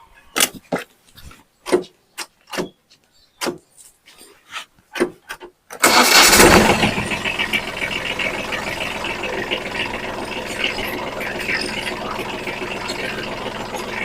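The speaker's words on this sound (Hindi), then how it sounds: "ट्रैक्टर स्टार्ट करके सबसे पहले इसकी आवाज" A tractor built for sugarcane farming gives a series of sharp cranking bursts, then catches and starts, settling into a loud, steady, rumbling idle close by.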